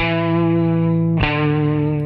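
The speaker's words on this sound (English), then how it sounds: "That's me playing a Telecaster." A Telecaster electric guitar sustains a thick, distorted chord with heavy effects and shifts sharply to a new chord about halfway through, ringing on loudly with no talk.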